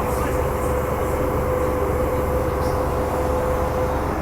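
An MTR Q train on Hong Kong's Island line rumbles steadily and loudly with a sustained tonal whine, continuous and close throughout.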